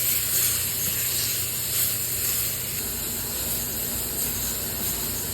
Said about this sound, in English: Put your hand away, get all that steam rolling,